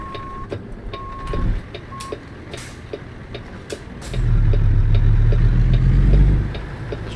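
A truck in American Truck Simulator backs up with a few evenly spaced electronic beeps, then its diesel engine surges into a loud, sustained rumble for a couple of seconds before easing off, with no talking.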